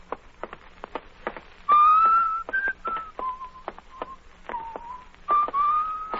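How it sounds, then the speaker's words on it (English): A man whistles a tune outdoors on a hot city street, clear sustained and sliding notes in short phrases, interrupted by sharp clicking footsteps, fairly close and moderately loud. "Stop whistling that. It gets on my nerves."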